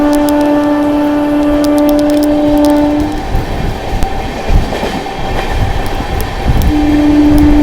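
The 22611 MGR Chennai Central–New Jalpaiguri superfast express runs through Shamsi station at about 100 km/h, a loud steady rumble with a sustained horn blast that cuts off, then wheel clatter and the horn returning.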